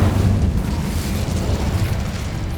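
A fiery Incendio spell burst in Hogwarts Legacy: a loud, low whooshing roar of flame that starts strong and holds steady for a couple of seconds with no speech over it.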